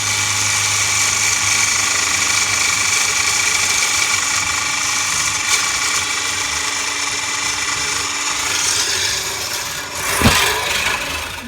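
An electric mixer runs steadily through a gluten-free, dairy-free plum cake batter made with oil, giving a continuous high-pitched motor whine up close, with a brief clunk near the end.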